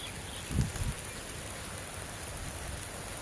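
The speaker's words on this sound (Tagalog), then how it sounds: "medyo lumalakas ang ambon ah" Soft, steady hiss of light rain falling, with a brief low thump near the start; no voices, just an even wash of drizzle.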